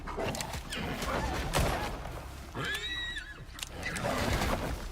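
Amid a wolf attack in the survival game Icarus, a horse gives a high whinny in the middle, surrounded by scuffling, thuds and busy game noise.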